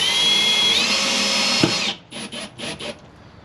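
A power drill drives screws into a plastic doorbell mount during a Ring doorbell camera installation: a close, steady whirring run that stops abruptly, followed by three or four short trigger bursts as the screws are snugged up.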